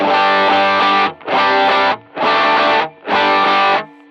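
Electric guitar played through a MIDI-controlled pedalboard with heavier drive, four loud sustained overdriven chords in a steady rhythm separated by short gaps, played close with no talk.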